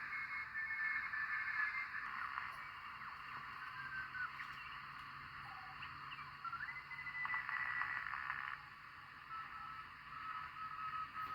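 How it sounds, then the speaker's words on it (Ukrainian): Steady hiss from a homemade 80 m shortwave receiver built on dual-gate transistors with an electromechanical filter, carrying faint Morse code tones that pulse on and off throughout. "Ну, морзянку можна чути добре."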